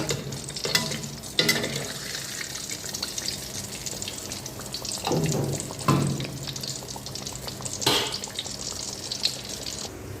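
Brinjal slices frying in a pan until reddish-brown for baingan bharta, a steady sizzle with scattered scraping and clinking of a utensil, some water-like splashes, and no talking.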